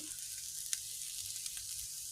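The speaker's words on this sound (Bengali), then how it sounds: "এটাকে নাড়াচাড়া করবো একটু ভাজা ভাজা হবে" Spices frying in oil in a home kitchen pan, a steady soft hiss of sizzling with faint scrapes from stirring and one or two small pops, fairly quiet and without talk.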